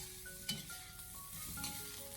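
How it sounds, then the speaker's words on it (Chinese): Chunks of beef brisket are stir-fried over low heat in a wok, giving a soft sizzle with a few spatula scrapes, under faint background music. "我们开小火先把牛腩给它翻炒一下"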